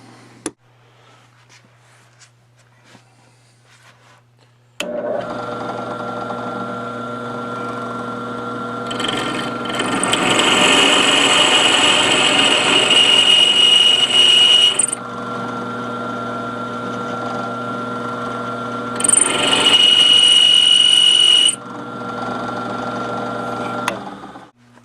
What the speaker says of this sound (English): So I've got to open it up a little bit with a slightly larger drill bit